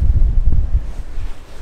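Cold wind buffets the microphone outdoors in a steady low rumbling roar, loud and close, with no voices.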